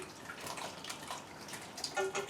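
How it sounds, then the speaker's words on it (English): Sauce being poured gently onto pasta with bacon, giving a faint, soft liquid trickle with a few small drips and splashes near the end, with no talk. "So just pour the sauce gently."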